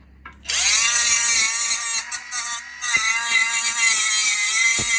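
A high-pitched angle grinder whine starts abruptly and runs loud and steady, briefly wavering a few times.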